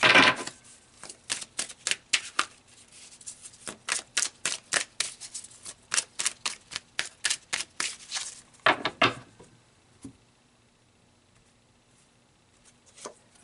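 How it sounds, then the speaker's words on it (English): Tarot cards are shuffled in a steady run of crisp, rhythmic riffles and flicks, close and dry. A brief pause and a few last taps follow, then near silence. "So let's pull some more cards"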